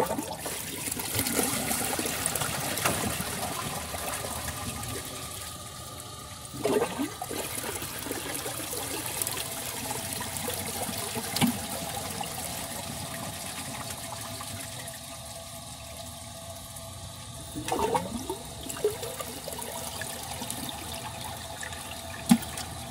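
A 2003 Vortens Vienna toilet with a water-saving flapper flushes in a steady rushing swirl, followed by long stretches of trickling and refilling water, with occasional knocks and gurgles close by.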